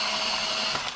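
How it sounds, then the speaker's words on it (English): An electric pencil sharpener grinds a colored pencil in a steady, close whirring buzz lasting about a second, with no speech. "I am using my electric sharpener for that."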